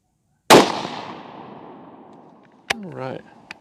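A suppressed Remington 700 .223 rifle fires a single shot outdoors, a sharp loud crack with a long trailing echo, followed by a brief clack and a short voice.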